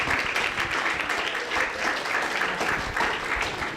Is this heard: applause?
yes